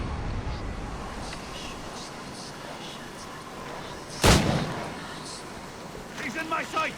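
Cannon fire during a naval battle in Assassin's Creed Rogue, a single sharp booming blast near the middle of the clip that stands out over low sea and wind ambience, with brief voices toward the end.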